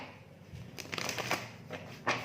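Tarot cards are shuffled by hand in a few soft, brief riffling bursts, close and quiet in a calm room.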